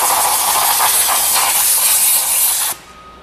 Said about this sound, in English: sprayed, we call it safety solvent, but it's essentially brake clean in there just to clean up any of the dust or anything that was in there